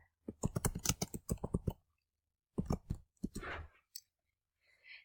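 Fingers type on a computer keyboard in quick, close clicks: a rapid run of keystrokes, a pause, then a few scattered presses and a soft final tap, all in a quiet room.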